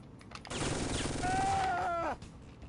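Sustained automatic assault rifle fire in the video game Syphon Filter, a loud continuous burst of about a second and a half with a rising whine near its end, close and alone.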